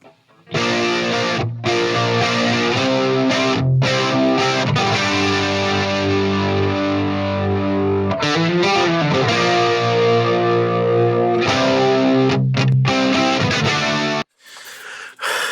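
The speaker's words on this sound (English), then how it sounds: "This chorus pedal is what you're hearing in that." Distorted bridge guitars run through a chorus pedal, loud and dense, playing sustained chords for about thirteen seconds with a few short breaks and a swirling, wavering shimmer.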